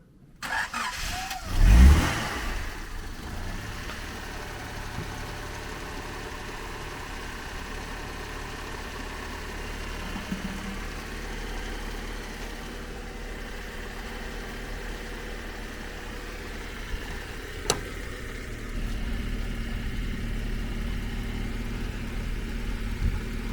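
A used car with a 1.6 engine cranks and catches with a brief loud burst, then settles into a steady low idle for the rest, heard up close with a single sharp click partway through.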